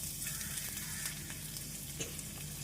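Ginger frying in oil in a pan, a soft, steady sizzle with a few light stirring taps, close by but quiet, with no talking.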